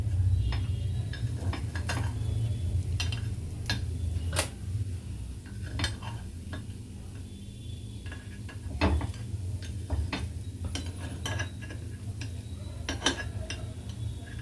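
Green pea kuzhi paniyaram are turned one by one with a metal pick in a paniyaram pan. Irregular clinks and taps of metal on metal sound close up over a low steady background rumble.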